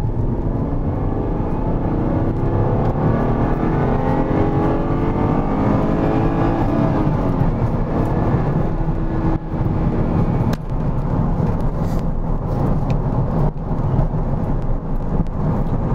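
A worn Ford Mondeo with a smashed right wing accelerates at full throttle, its engine droning loud and steady close by as the pitch slowly climbs, with no talk.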